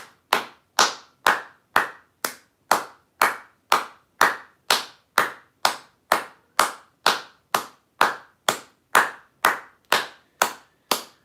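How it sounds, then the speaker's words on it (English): One person's hands clap alone at a steady, unhurried pace, more than twenty crisp, close claps in a regular rhythm, each decaying quickly into quiet. "Round of applause."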